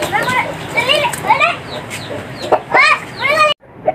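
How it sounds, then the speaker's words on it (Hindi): A hen held in someone's arms clucks and squawks in repeated agitated bursts, close and loud, while voices murmur around it and the sound cuts off abruptly near the end. "ये मुर्गी क्यों उठाई हुई है?"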